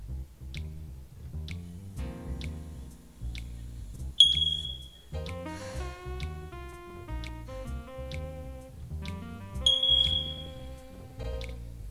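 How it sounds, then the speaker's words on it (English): Two bright, short electronic smoke-alarm chirps from the in-game town in Pokémon XD: Gale of Darkness, sounding at about 4 s and 10 s over a steady video-game music track with a regular ticking beat. "That was the in-game smoke alarms in this town."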